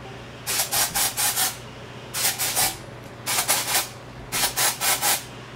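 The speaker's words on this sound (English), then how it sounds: "So just spraying my hair with a dry shampoo." Dry shampoo sprays onto hair in four separate bursts, each a close, airy hiss made of several quick pulses, with quiet pauses between them.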